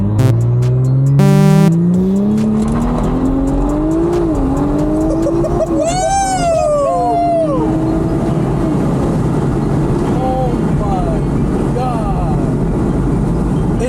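An Audi in sport mode with traction control off revs hard and accelerates loudly, its engine note rising and falling in sweeping pitches, with tire noise and excited voices talking over it throughout.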